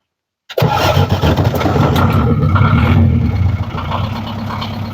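An old car's engine is started by its self-starter after a short silence, catching at once and settling into a loud, rough, rumbling idle close by, with no talking.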